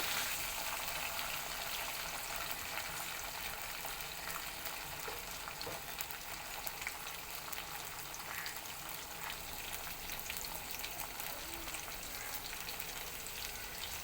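Green chilies and onions with cumin sizzle steadily in hot oil in a pan, a dense even frying hiss that holds throughout at close range, with no talk.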